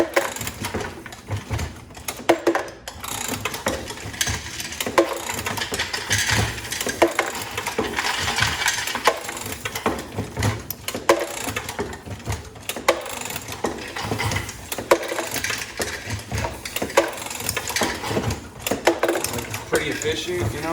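A Dillon RL1100 ammunition reloading press clatters continuously with a steady rhythm of ratcheting, clunking mechanical strokes, close up and busy throughout.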